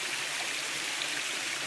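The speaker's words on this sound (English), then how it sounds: "Here's Dalway, Thyman, and Gina filling up some glass bottles directly from the source coming out of the rocks" Natural spring water pours steadily out of the rocks at its source while glass bottles are filled, a close, even rushing and splashing flow with no pauses.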